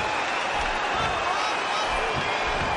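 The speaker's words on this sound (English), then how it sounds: "Would you listen to this crowd show their appreciation for these amazing competitors?" A wrestling arena crowd in the video game SmackDown vs Raw 2011 roars and cheers steadily, a continuous wash of massed voices with no breaks.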